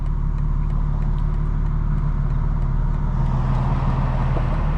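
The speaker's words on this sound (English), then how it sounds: "This is a stock turbo car pushing 730, 750 wheel horsepower." Steady, loud engine drone from a modified 2025 BMW M4 Competition xDrive with a stock turbo making around 730 to 750 wheel horsepower, heard from inside while cruising, with no talk.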